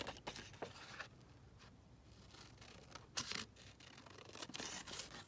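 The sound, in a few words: scissors cutting paper for a map page collage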